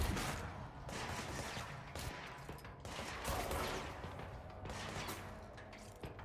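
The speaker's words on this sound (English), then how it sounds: "Good job shooting through the wall." Sustained gunfire in the video game Control, shots fired through a wall in dense, continuous bursts with a few short gaps, loud and close, with no talk.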